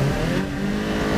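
Several rallycross race cars rev hard together on the starting grid, a loud, dense, continuous engine roar with no pauses.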